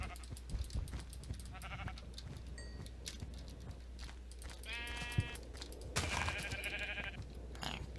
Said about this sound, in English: Need to go get some sheeps.